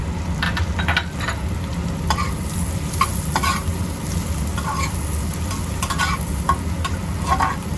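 Chopped green chillies and onion fry in hot oil with a loud, steady sizzle, broken by repeated scraping and stirring clicks of a spatula in the pan.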